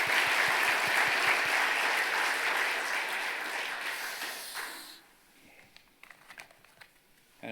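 A church congregation at an officers' retirement service applauds loudly and steadily for about five seconds, then the clapping fades to a few scattered claps and light rustling.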